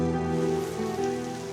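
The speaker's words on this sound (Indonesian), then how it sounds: "Mana lagi gerimis kayak gini" Light drizzle falls as a steady, soft patter of rain on surfaces, with a low tonal hum underneath and no voices.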